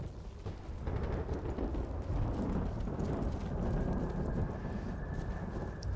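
Horse hooves clip-clop in a video game, a faint, muffled patter of steps beneath a low rumbling background wash, distant and indistinct throughout.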